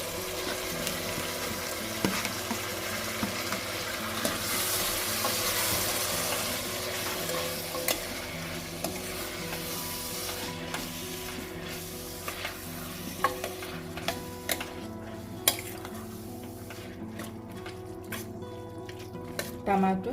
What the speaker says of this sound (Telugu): పసుపు, జింజర్ గార్లిక్ పేస్ట్ పచ్చిదనం పోయేంత వరకు మనము ఫ్రై చేసుకున్నాం కదా